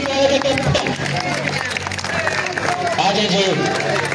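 Crowd at a local cricket tournament final applauding and cheering amid a steady hubbub, with an announcer's voice talking over the clapping throughout.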